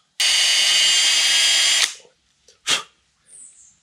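A power drill recessing holes in wood whirs loudly for under two seconds, then stops, followed by a couple of short knocks and scrapes.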